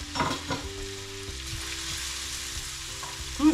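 Ingredients for egg fried rice fry in a pot over medium heat, giving a continuous close sizzle with a few stirring scrapes and a brief clink at the end, with no talking.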